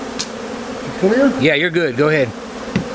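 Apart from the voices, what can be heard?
honey bees buzzing during colony removal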